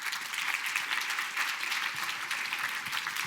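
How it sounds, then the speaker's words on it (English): Steady audience applause fills an awards ceremony hall, dense even clapping from a crowd holding level throughout with no talk. "Give her an applause"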